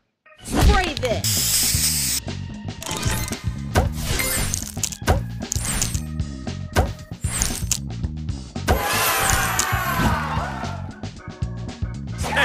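Spray booster effect in the Match Masters puzzle game: bursts of hissing spray mixed with clinking, shattering and whacking game effects and music, all loud and close.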